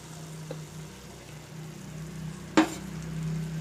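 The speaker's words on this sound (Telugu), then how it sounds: "టమాటా కాస్త మగ్గింది కొంచెం మెత్తబడింది టమాటా ఇప్పుడు ఈ మసాలా పేస్ట్ పోసేసుకుందాం" Masala paste hits softened tomatoes frying in a pan, giving a steady close sizzle with one sudden loud crackling burst partway through, over a low background hum.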